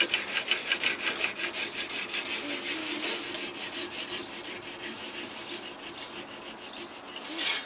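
A knife blade is sharpened in steady, evenly spaced rasping strokes, close and continuous with a regular back-and-forth rhythm throughout.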